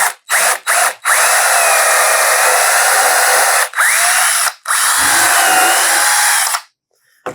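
A power drill bores into a wooden chair leg during a repair, running loud and close in several long bursts with brief pauses between, its whine shifting slightly under load before stopping.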